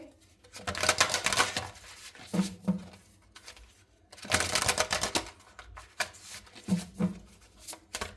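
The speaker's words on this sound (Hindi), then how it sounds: "मैं जब तक कार्ड शफल कर रही हूं" Tarot cards are shuffled in bursts, two long rapid flurries of crisp papery riffling close up, each followed by sparser taps and shuffles and short pauses, with no talk.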